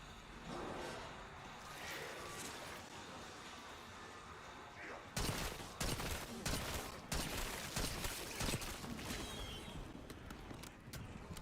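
Gunfire rattles in a Black Ops 6 Zombies match while a decoy grenade is in play, with scattered shots early and then denser bursts of rapid fire, heard under a player's speech and game noise.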